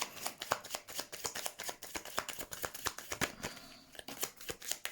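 Oracle cards shuffled by hand, a steady run of quick, crisp riffling slaps close up, with one card dropping out near the end.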